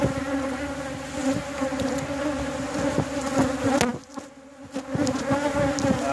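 A dense swarm of honeybees buzzes close by during a backyard hive inspection, loud and continuous with shifting pitch, and a few soft knocks and handling noises are mixed in.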